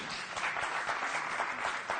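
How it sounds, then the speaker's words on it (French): A studio audience at a church broadcast claps in a dense, continuous patter, fairly soft and even throughout, with no voices over it. "On peut applaudir pour Emar Otamba."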